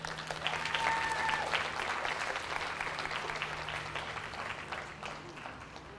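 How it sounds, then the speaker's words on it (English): A crowd at a cattle livestock show claps steadily in sustained applause, moderately loud and continuous for several seconds, with a low hum underneath. "Big round of applause"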